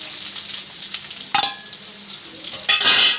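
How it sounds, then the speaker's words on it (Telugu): Onions frying in hot oil in a pan while an egg curry is cooked, a loud, close, continuous sizzle broken by two sharp bursts of stirring or scraping. "ఆనియన్స్ కూడా ఆయిల్లో బాగా మగ్గిపోవాలండి. బ్రౌన్ కలర్ వచ్చేంత వరకు కూడా బాగా మగ్గిపోవాలి."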